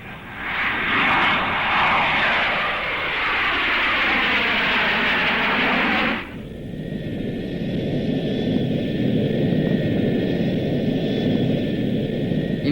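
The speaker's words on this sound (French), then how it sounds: "Je reconnais ce moteur-là. Oui, c'est l'avion dans lequel je me trouvais." A propeller airplane engine drones loudly overhead in a 1967 TV series scene, its roar sweeping past with a shifting pitch before settling into a steadier, lower hum.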